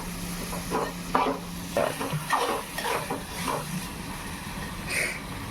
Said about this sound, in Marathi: हे व्यवस्थित मिक्स करून घेऊ